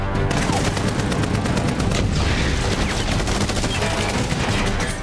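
Relentless gunfire from an action film scene fills the air, rapid bursts and shots overlapping into a loud, continuous barrage with no pauses.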